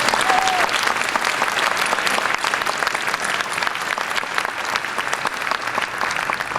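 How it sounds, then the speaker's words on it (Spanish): Sustained applause from a book fair audience at a Buenos Aires book launch, dense and steady throughout, filling a large hall without pause. "Un aplauso para Cuenca."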